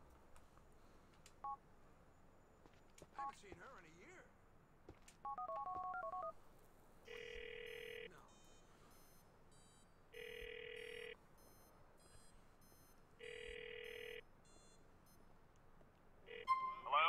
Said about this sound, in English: You've got to call him and keep a lookout for someone answering a phone.